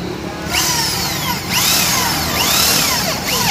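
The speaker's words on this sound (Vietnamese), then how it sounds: "Ây da, khoan bén thiệt." A Makita M8100 hammer drill bores into wood with a loud, close whine that rises and falls in pitch over several short bursts as the bit bites in and spins.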